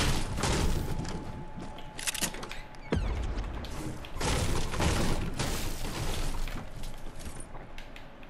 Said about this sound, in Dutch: ik hoor weer schoten, jongens